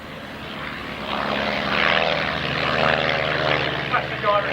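A Blackburn monoplane propeller aircraft flies at an air show with a steady droning engine roar that swells slightly as it passes, and the sound is unbroken throughout.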